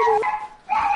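A dog gives two quick, high, yelping barks with a short gap between them, close and fairly loud.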